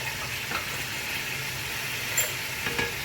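Red deghi chili frying in hot ghee for a beef nihari tadka, a steady close sizzle with a few brief stirring clinks, no talk.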